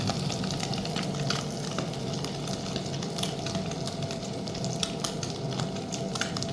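Eggs fry in a pan with a steady, dense sizzle and crackle that runs evenly throughout, close and fairly loud, with no voices.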